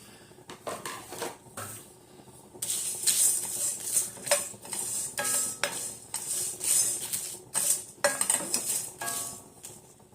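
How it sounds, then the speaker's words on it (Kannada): Whole spices such as bay leaves, black cardamom and pepper dry roasting in a pan for garam masala, with scattered crackles and scraping stirs against the pan, irregular bursts of rattling and clinks, moderately close, no talk. "ಚಟಪಟ ಸೌಂಡ್ ಬರ್ತಾ ಇದೆ"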